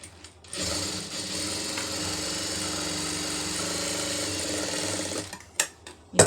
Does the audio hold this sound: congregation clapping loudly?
no